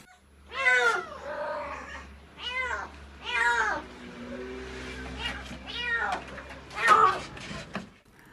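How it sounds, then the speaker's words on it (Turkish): A kitten trapped inside a clothing store meows repeatedly, about six high, thin cries spaced a second or so apart, close and clear over a low steady hum. "iş yeri sahibi Faruk Mucan, yavru bir kedinin sesini duydu."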